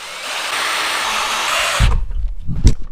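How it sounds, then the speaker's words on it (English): A power drill whines steadily while drilling a hole into a car engine block, then cuts out, followed by a few loud close knocks and clatters. "I'm about to drill a hole in my block."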